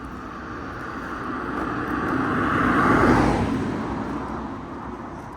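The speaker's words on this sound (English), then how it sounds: "Oh, something heavy's coming." Something heavy rumbles along a quiet country road near Bosley Reservoir, a broad roar that swells as it comes closer, peaks, then fades as it passes.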